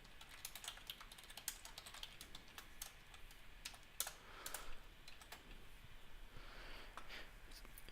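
Fingers typing PHP code on a computer keyboard, a quiet, continuous patter of quick, light keystrokes with a few louder taps, close and alone in a quiet room.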